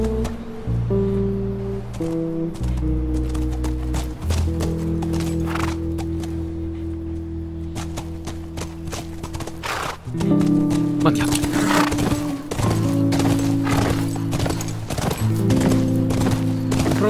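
Horse hooves clip-clop in The Last of Us, steady rhythmic steps near and clear, with a whinny, ambient wash and people talking at times.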